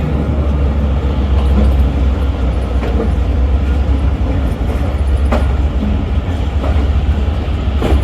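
The 15 Up Karachi Express passenger train running between Multan and Lahore, a loud steady rumble of rolling carriages with scattered rail clacks and metallic clicks, continuous and close with no talking.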